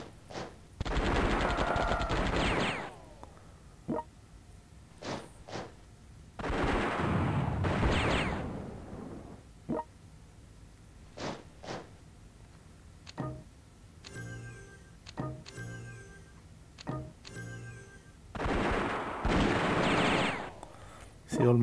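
Bombing strikes in the World War I strategy game European War 6 1914, with bursts of rapid gunfire and explosions coming in separate loud salvos between short quiet gaps, along with clicking interface sounds.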